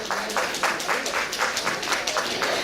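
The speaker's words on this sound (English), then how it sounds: "welcome him with a big round of applause, please" Audience applause at a stage event welcoming the chief guest to the dais, a steady mid-level patter of many hands clapping with faint voices underneath.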